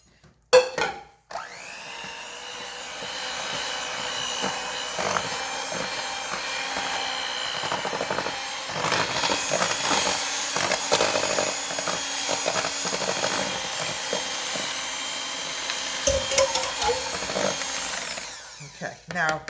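An electric mixer beats chocolate cake batter after boiling water has been added, a steady close whirring drone that runs for a long stretch with small shifts in pitch as it churns.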